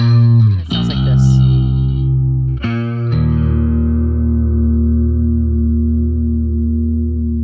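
Electric guitar run through a Waves Kaleidoscopes effect set for a post-punk tone: sustained, shimmering chords with modulated, chorus-like swirl and some grit, two strummed attacks ringing out loudly with no talking.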